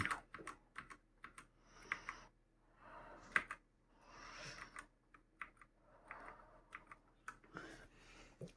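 A compact computer keyboard is typed on in bursts of rapid clicky keystrokes, with short pauses and a few louder isolated presses. The clacking is close and clear, and nobody talks.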